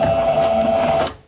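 Sewing machine running a short burst of stitches on a bust dart sewn in contrasting thread, a steady close mechanical whir with a constant hum that stops near the end.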